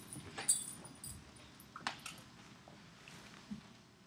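A dog whimpers softly a few times, faint whines and small yips scattered over a quiet indoor background.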